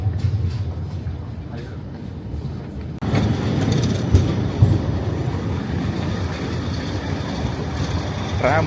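Rumbling rail noise of a tram rolling past close by in Oslo, a steady broadband roar with clattering, heard beneath faint voices.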